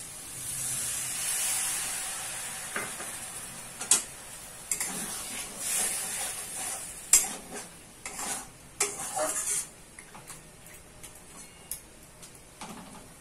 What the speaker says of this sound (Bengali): এবার একটু এর মধ্যে জল দিয়ে দিতে হবে, নাহলে মশলাটা পুড়ে যাবে